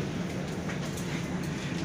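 Steady rumbling of a train running on rails between Bandung and Bogor, Java, a dense continuous roar with no distinct clacks, heard from inside a premium-class carriage.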